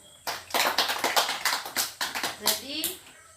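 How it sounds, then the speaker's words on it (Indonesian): Children clapping their hands together in a classroom, a dense burst of many sharp claps repeating for a few seconds, close and lively, with a voice briefly mixed in. "Pintar, tepuk tangan."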